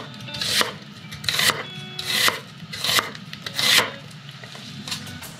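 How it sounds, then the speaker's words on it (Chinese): Vegetables being chopped for slow-cooked octopus, including onion, olives, garlic, cherry tomatoes, potato and parsley. A knife strikes in a steady, slightly uneven rhythm, about five firm, close cuts over a few seconds with no talking. "我们先来处理蔬菜"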